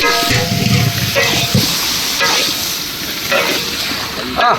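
Taro and jackfruit seeds tipped into a hot pan of oil, a burst of loud sizzling and crackling frying with stirring scrapes, close up and continuous.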